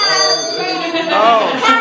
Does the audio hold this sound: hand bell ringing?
yes